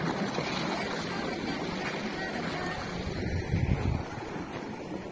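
Waves surge at the confluence of the Gomti river and the sea, a loud, continuous wash of water with wind rumbling against the microphone throughout.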